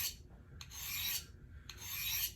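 A knife blade edge is filed lightly at an angle to raise small shavings, giving two or three close, long rasping strokes separated by short pauses, with no talk.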